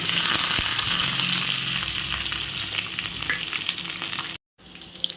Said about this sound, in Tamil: இந்த வெங்காயம் நல்லா பொன்னிறமாக வர்ற வரைக்கும் நல்லா வதங்கட்டும்